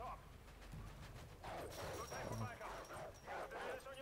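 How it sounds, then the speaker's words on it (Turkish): A dog barks and yips in the Call of Duty Modern Warfare 2 video game, a few quick barks amid game noise and someone talking over it. "Köpek."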